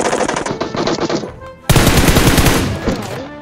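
Automatic gunfire in the mobile battle royale game PUBG Mobile bursts in rapid loud volleys, a short pause, then a second dense burst of shots, close and sharp.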